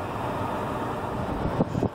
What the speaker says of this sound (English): I'm sure you can hear the noise of the fan blowing